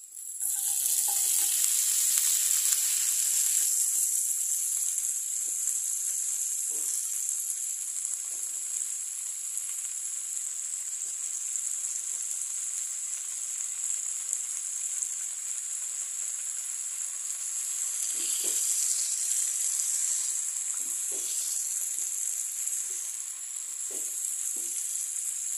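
Water spinach (kangkung) stir-frying in a pan with seasoning, a steady loud hiss of sizzling oil throughout, with occasional soft spatula clicks and scrapes.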